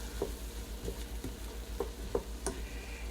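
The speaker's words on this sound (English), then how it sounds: "We're going to stir it up." Seafood creole stirred in a pot, a quiet series of soft scraping and tapping knocks from a spoon against the pot, about six spaced strokes over a faint low simmer and hum, with no speech.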